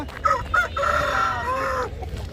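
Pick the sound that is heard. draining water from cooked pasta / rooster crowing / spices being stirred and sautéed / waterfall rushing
rooster crowing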